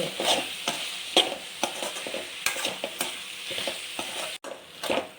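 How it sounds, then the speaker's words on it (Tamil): Ginger garlic paste sautés in a pan for pasta, with a spoon scraping and stirring in uneven strokes over a soft sizzle, close and clear with no voices. "கிராஜுவலாக அப்படியே வதக்குறேன்"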